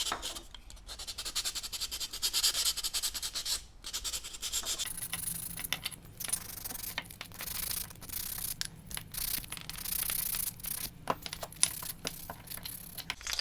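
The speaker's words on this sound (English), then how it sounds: "sand the edges here" Bamboo nunchuck edges sanded by hand in steady back-and-forth scraping rubs, close and moderately loud, with brief pauses between strokes and no talk.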